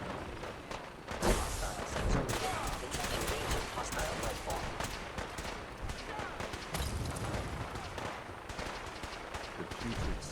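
Gunfire in a video game shooting sequence, rapid volleys of shots crackling continuously over a busy, dense backdrop of game sound, fairly steady and mid-level throughout.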